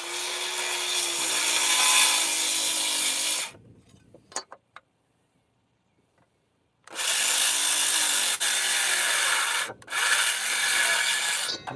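Power saw cutting through wood in two long, loud, steady bursts, separated by a quiet pause with a few faint knocks.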